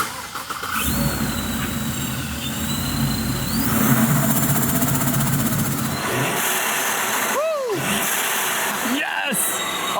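A supercharged Chevrolet Silverado truck engine idles with a surge valve fitted, giving a steady, close rumble and hiss with a thin high whine, plus a couple of brief chirps near the end.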